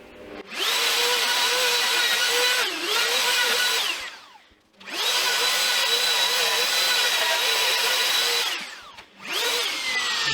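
A power tool slowly cuts into the wood of a guitar body being shaped from scratch, giving a loud, close, sustained high whine that twice dips and pauses before starting again.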